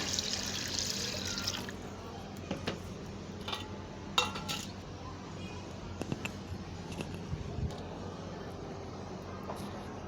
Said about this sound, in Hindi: 3 गिलास पानी